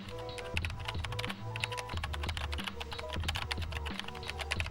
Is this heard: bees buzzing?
no